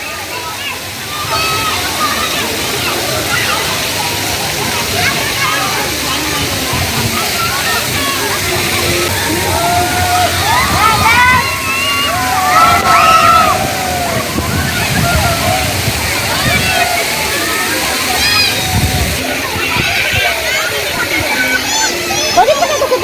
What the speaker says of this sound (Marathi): आता तिथे पाणी पडणार